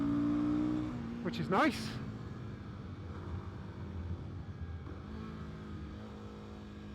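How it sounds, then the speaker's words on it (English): A Royal Enfield Guerrilla 450 single-cylinder motorcycle with a retuned airbox under the tank gives a steady, droning intake note while it is ridden. Someone talks over the engine throughout. "you can definitely hear some induction there"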